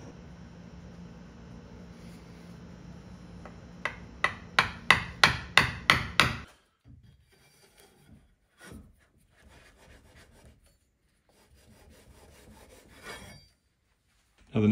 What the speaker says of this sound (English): let's see if we can chip this thing out of here